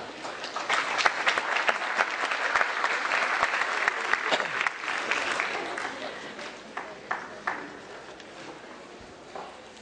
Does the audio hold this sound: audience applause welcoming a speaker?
yes